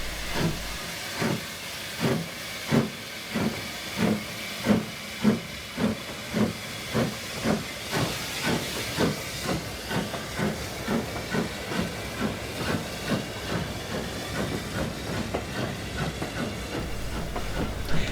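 A steam train shuttle heads into the sidings, loud rhythmic exhaust chuffs at a steady beat with hissing steam, gradually easing and blending into a continuous hiss with light rail clatter.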